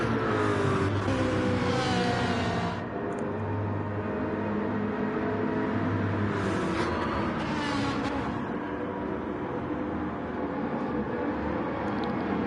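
Several race cars, a Corvette among them, roar together in a racing video game, engines droning loud and close as the pack heads down toward the first corner, with brief revving swells.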